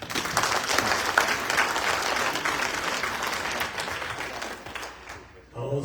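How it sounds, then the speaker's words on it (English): An audience claps at an outdoor political gathering on a cold evening: sustained, thick applause from a large crowd that fades near the end, briefly giving way to a quieter moment before rising again. "Let's clap for him."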